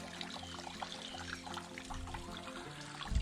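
Water trickles steadily through a man-made drainage channel running through a small beech copse on rural land, a soft, continuous outdoor babble heard faintly from nearby.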